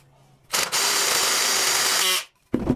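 Power drill with a 13/16 bit widening holes in bamboo, a steady high whine of about a second and a half after a brief start, followed by a short rough burst of scraping.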